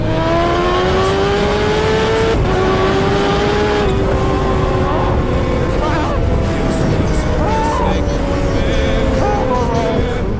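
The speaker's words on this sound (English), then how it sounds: "I've got a Ninja H2. It's so fast." A Kawasaki Ninja H2 motorcycle ridden fast, its loud engine droning steadily with gradual pitch rises under continuous wind roar, while the rider talks over it.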